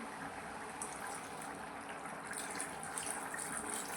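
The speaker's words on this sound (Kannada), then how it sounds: "ನೀರು ಸೇರಿಸ್ಕೊಳ್ಳಿ" Water pours steadily into a cooking pot while kusube (safflower) rice is being prepared, a faint, continuous gushing wash with no breaks.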